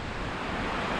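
Steady broadband rush of a waterfall on a scenic excursion with black-sand beaches, heard close and continuous with no break, dense and even like heavy falling water or surf.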